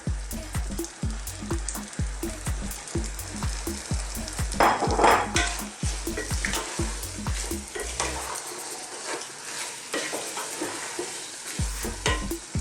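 Small split red lentils tipped into a hot pan and stirred, giving a close, steady sizzle punctuated by rhythmic knocks and scrapes of a spoon, with a louder burst of crackling partway through.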